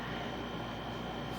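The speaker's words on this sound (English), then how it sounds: "I apologize for the noise, but yes, I do have an air conditioner in my sewing room" An air conditioner running in a sewing room gives a steady, loud, broadband whoosh and hum that stays constant throughout, with no voices over it.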